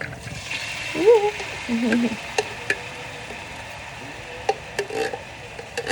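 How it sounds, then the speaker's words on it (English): Coconut cream being added and stirred into a simmering vegan pasta sauce, with soft wet stirring and scraping sounds, a few light clicks of the utensil against the pot, and a voice speaking briefly in the middle. "So now you're gonna add your coconut cream in there"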